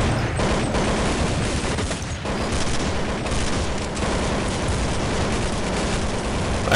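Dense bursts of automatic gunfire from a Counter-Strike 1.6 match rattle continuously, loud and close, with overlapping shots and no voices.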